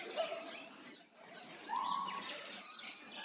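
Small birds chirp and tweet in a snowy Kyrgyzstan landscape, with a few short calls and one clearer chirp rising over a faint, airy background.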